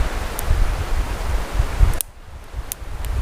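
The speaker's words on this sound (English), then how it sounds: "it's very windy now" Strong wind roars and buffets across the microphone in broadband gusts, then suddenly drops to a softer rush partway through.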